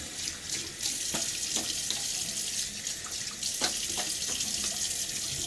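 Cold water runs steadily from a bathroom tap for rinsing a beard after a razor shave, a continuous close hiss with faint splashes and hand movements in the stream, no speech.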